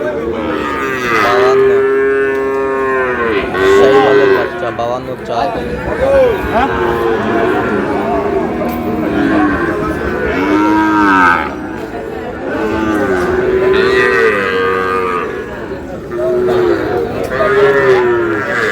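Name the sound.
Sahiwal bull calves mooing at cattle market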